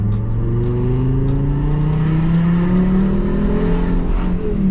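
A Fiat Marea climbs a steep hill under hard throttle, its engine revving steadily upward in a loud, continuous, close-up drone with rising pitch throughout.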